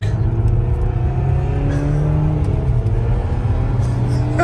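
Loud Infiniti Q60 engine revving up close, a steady deep rumble with rising and falling tonal harmonics through the whole stretch, no talk over it.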